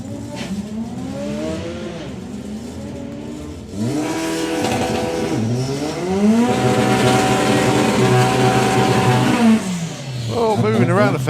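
BMW E30 drag car with a six-cylinder engine launching down the strip at a doorslammers event, its loud engine climbing through gears with rising, shifting revs, a brief dip before a surge near four seconds, under an announcer talking.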